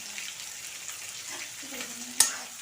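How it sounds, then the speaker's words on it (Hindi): Onions and a bay leaf frying in oil in a pan for jackfruit curry, a soft continuous sizzle close by with a brief clink of a spoon near the end. "अब प्याज को लाल करके अच्छी तरह से भून लेते हैं"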